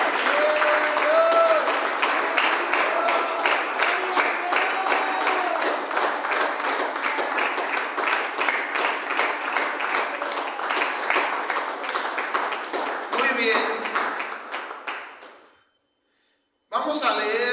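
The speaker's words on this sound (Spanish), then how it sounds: "Dale fuerte esa ofrenda de palmas al Señor." A church congregation gives sustained applause, dense clapping for about fourteen seconds with a few voices in the background, then it fades out into brief silence.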